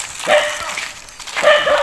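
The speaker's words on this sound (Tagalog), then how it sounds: "nandito yung aso niya" An elderly man's beloved dog, always on guard beside him, gives two short bursts of barking about a second apart, fairly loud and close, with no talk.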